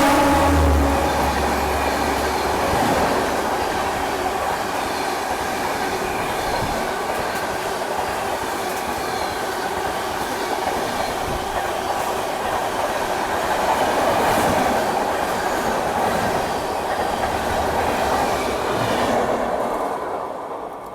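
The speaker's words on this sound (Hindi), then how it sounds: "तो ये थी प्रयागराज हमसफ़र एक्सप्रेस, जिसने अभी हमें ओवरटेक किया" The Prayagraj Humsafar Express overtakes close by, a loud, continuous roar of rumbling wheels and clattering carriages that fades slightly at the end.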